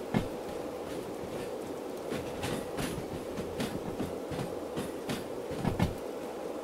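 A freight train rolls slowly along wet rails in the rain during shunting, with rhythmic clicks and clunks from wheels and couplings over a steady rumbling bed of noise, fairly close and continuous.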